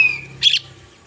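A bird gives one short, loud, close chirp over a quiet background hum, with no voices.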